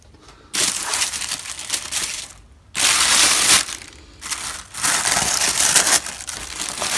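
Tissue paper inside a Gucci sneaker box crinkles and rustles loudly up close in several long bursts, with short quiet pauses in between.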